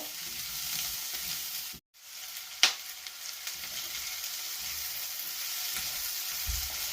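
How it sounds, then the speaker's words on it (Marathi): Chopped onions frying in a pan until browned, for a Goan egg masala curry: a steady close sizzle with one sharp clank of a utensil and a brief dropout near the start. "मातशें ब्रावन जाता म्हणल्यार फ्राय करपाचो."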